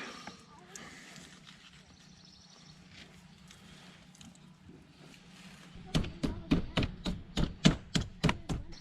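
A sharp knife butterflying a piece of chicken at a campsite cooking setup, about ten crisp, evenly spaced cutting thunks close by in the second half after quieter handling.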